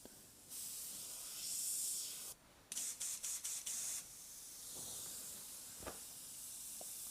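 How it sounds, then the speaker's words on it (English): A brand-new airbrush loaded with thin paint hisses in steady bursts, then gives a run of short stuttering spurts as the valve sticks, before a softer continuous hiss returns. Quiet and close, with no talk. "The paint is thin. This should be spraying."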